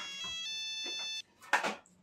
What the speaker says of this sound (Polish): telefon mi dzwoni